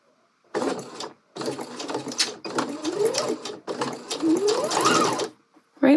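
A sewing machine stitches bias binding onto a dress in four or five close, rapid bursts separated by short pauses, its motor pitch rising within the longer runs.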